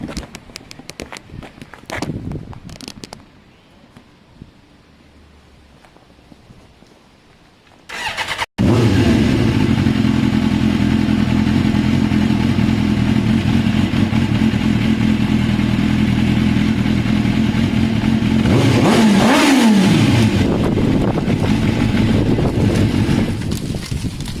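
A Suzuki GSX-R 600 K2 motorcycle, with quiet handling noises followed by a sharp start and a loud, steady engine run close by that rises briefly in revs near the end, with no talking.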